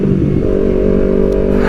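Close, steady engine drone from a Kawasaki Ninja 250 FI two-cylinder motorcycle, a loud uneven rumble held for a moment without voices.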